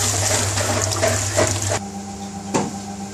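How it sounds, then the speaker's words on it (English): Rice being washed in water in a restaurant-style kitchen: a running, splashing wash with sloshing swirls, then a quieter stretch with a single sharp splash near the end. "Now we need to wash the rice."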